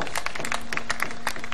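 An audience at a Javanese wayang performance led by a dalang claps together in a dense, lively burst, with many close, crisp hand claps over a faint steady electrical hum.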